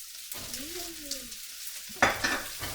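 Carrot and noodles being stir-fried for chow mein, a steady sizzle with stirring and a scrape of the utensil against the pan, close up, with a brief voice in the background.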